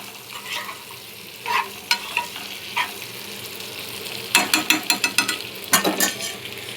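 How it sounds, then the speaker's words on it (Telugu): Potatoes fry in a pan until browned, a steady sizzle punctuated by bursts of rhythmic scraping and clinking as a utensil stirs them against the pan. "ఒక ఫైవ్ మినిట్స్ వేపుకుందాము ఇవి కూడా బ్రౌన్ కలర్ వచ్చే వరకు వేపుకొని"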